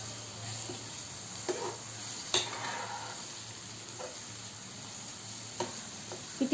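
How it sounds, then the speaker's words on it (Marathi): Chopped tomatoes sautéing in a pan for shahi paneer bhaji, a constant low sizzle broken by occasional sharp spatula clicks and scrapes against the pan. "आता हे थोडं परतून घेऊया।"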